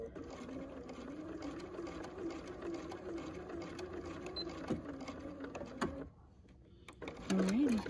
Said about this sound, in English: for backstitching, you really just need a couple stitches